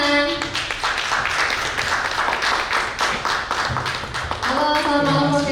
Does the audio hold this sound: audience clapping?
yes